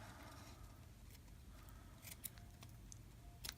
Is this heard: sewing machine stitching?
no